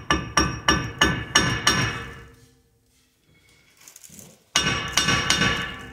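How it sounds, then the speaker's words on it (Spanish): Hammer tapping a rear axle shaft loose on a 2016 Ford Transit during rear brake work, six quick metallic blows in a row, then a pause with faint handling noise, and another burst of ringing strikes. "Ahora damos unos pequeños golpes aquí a la flecha para que salga."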